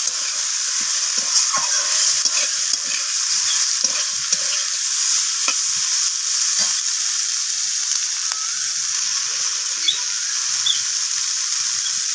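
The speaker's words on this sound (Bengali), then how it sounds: "সমস্ত কিছু ভালোভাবে এইভাবে মশলার সাথে কষিয়ে নিচ্ছি আমি" Bitter gourd with note greens sautéing in spices for a traditional village chorchori, a bright, steady hiss of frying with faint, scattered stirring taps throughout and no voices.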